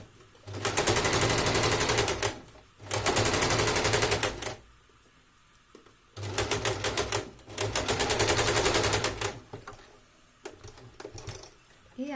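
A sewing machine runs in long rapid bursts of several seconds each, loud and close, with a steady rattling stitch rhythm and brief quiet gaps between runs while joining the front and back seams of a garment.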